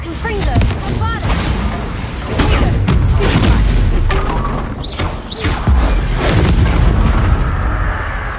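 Booming blasting-spell explosions in the Hogwarts Legacy video game, with heavy thuds and rumbles recurring over several seconds, loud and close, while a voice calls out spell names between the impacts.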